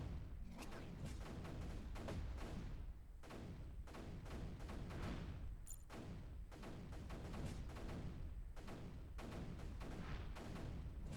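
Mortar fire in the strategy game Creeper World 3: a fairly quiet, rapid series of repeated thumping launches and booms in an irregular, ongoing rhythm.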